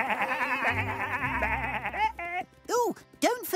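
Cartoon sheep bleat in a few short wavering calls near the end, following a stretch of voices and music.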